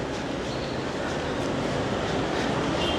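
Bangkok MRT underground subway train, a continuous loud broadband rumble and rush of a train moving through the station, steady throughout with no speech.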